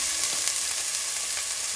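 Onion and garlic sizzle and crackle steadily in a hot pan, close and bright, with faint stirring noises.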